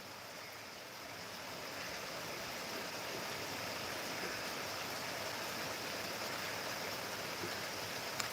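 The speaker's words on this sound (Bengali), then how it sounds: "আমাদের এখানে তো ভালোই বৃষ্টি হচ্ছে" Rain falls steadily outside, a soft continuous hiss that swells slightly and stays even and fairly faint, with no talking.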